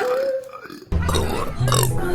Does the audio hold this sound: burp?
yes